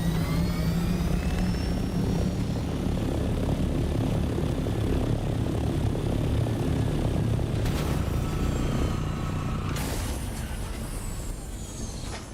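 A helicopter flying in the video game Dune Awakening, a loud, continuous engine roar with a steady rotor drone that holds throughout and eases slightly toward the end, with no talk.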